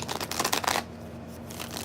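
A deck of tarot cards is shuffled in a quick, crisp riffle of rapid flicks lasting under a second, close and loud, then falls silent.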